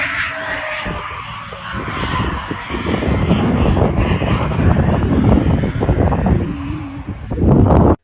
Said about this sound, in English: This pilot manages to land the plane without landing gear